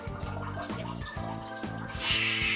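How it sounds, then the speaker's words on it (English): Water sprays steadily from the front-wash nozzle of an Eco Nova elongated bidet seat, with a hand held in front to block the stream, a close continuous hiss that grows brighter and louder toward the end. "There's the water going."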